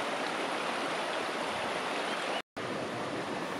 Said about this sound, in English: I love running water.